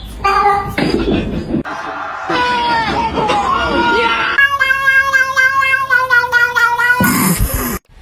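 A house cat meows loudly and repeatedly at close range, with drawn-out, wavering cries and yowls and a few short calls, while a person talks and background chatter runs beneath.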